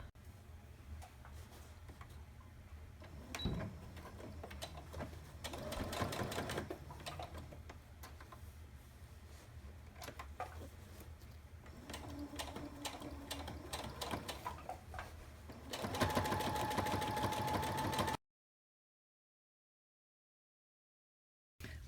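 A sewing machine top stitching along the edge of fabric for a box zipper pouch, with quiet mechanical ticking in stop-and-start runs that gets louder near the end before cutting off.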